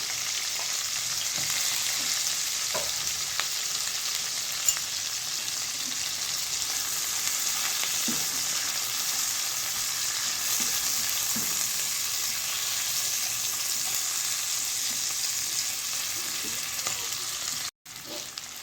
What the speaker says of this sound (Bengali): পেঁয়াজ কুচি দিয়ে দিলাম পেঁয়াজটাকে একটু ভেজে নিতে হবে